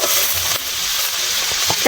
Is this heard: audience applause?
no